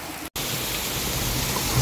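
Rain falling on a rainy day, a steady dense hiss of drops with one brief cut near the start, even and unbroken, with no voices.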